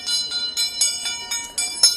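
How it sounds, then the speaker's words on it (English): A high metallic garbage truck bell rings rapidly and repeatedly, about seven or eight strikes in two seconds, close and clear with no talking. "There's the garbage truck bell."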